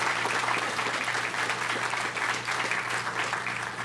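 A large crowd at the City of Fremont 60th Anniversary Celebration applauds city community service, street maintenance, public works staff and the Fremont Police Department, a sustained even roar of clapping, moderately distant and uninterrupted.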